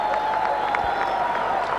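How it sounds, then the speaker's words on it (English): Cricket crowd applauding a straight drive at a 2006 India versus Pakistan one-day international, a steady wash of clapping and cheering that holds through the moment without pause. "Well, you've got to clap for that one."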